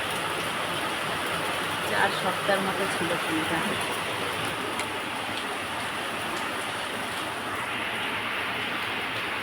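Steady rain falls outdoors around potted plants, an even wash of hiss that continues throughout while someone talks over it.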